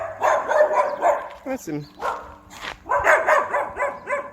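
Dogs in yards of a pet-friendly residential street in Prashad Nagar, Georgetown, barking repeatedly and fairly close, in rapid bursts with short pauses, while a person talks over them.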